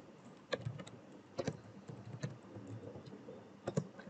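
Someone types a command into a terminal on a computer keyboard, soft close key clicks in quick irregular clusters over a quiet background.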